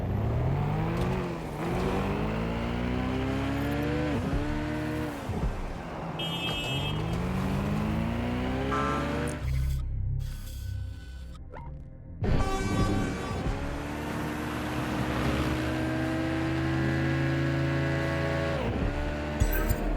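A car driven in the London-set game Watch Dogs Legion, with its engine revving up and down through repeated gear shifts, loud and close, broken by a short quiet gap before the acceleration resumes.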